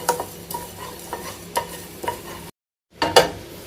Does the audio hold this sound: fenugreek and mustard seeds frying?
yes